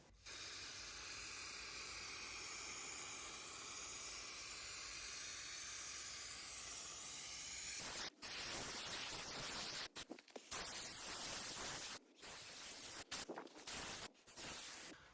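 Adhesive activator sprayed from a can while gluing EPDM membrane under windows: a steady, close hiss runs for about eight seconds, then breaks into short, choppy bursts of spray with brief gaps.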